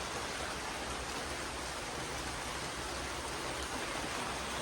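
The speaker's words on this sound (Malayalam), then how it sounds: "ഇറങ്ങാൻ നേരം നിന്നപ്പോഴാണ് നല്ല മഴ." Heavy rain pours down steadily, a dense, even hiss that fills the whole clip with no voices over it.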